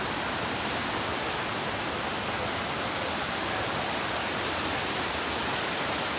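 River rushing at a trail crossing on a Pacific Crest Trail hike, a steady, loud broadband roar of flowing water, close and unbroken, with no voices.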